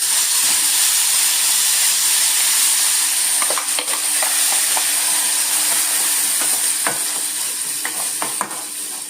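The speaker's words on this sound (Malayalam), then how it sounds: "ഈ അരച്ചുകൊണ്ട് വന്നേക്കുന്ന ചട്നി ഇതിലേക്ക് ഇടാം" Ground tomato chutney hits a hot cumin seed tempering in a pan, giving a loud, steady sizzle and hiss close by, with soft scraping taps from stirring scattered through it.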